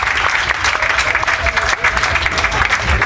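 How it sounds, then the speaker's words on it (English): Audience at a comedy hypnosis show at Burning Man's Magic Camp claps steadily for stage volunteers, a dense, loud, continuous applause with faint crowd noise throughout. "Let's give a round of applause for our volunteers."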